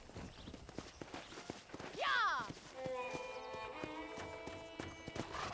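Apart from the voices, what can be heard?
horse hooves from video game Red Dead Redemption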